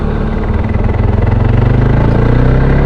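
A quad bike engine runs loud and close on a ride, a rough, throbbing low rumble that climbs slightly in pitch as it pulls along.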